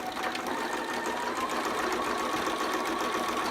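Sewing machine stitching fabric in a continuous rapid mechanical whir and rattle, close and steady throughout the short run with no voices.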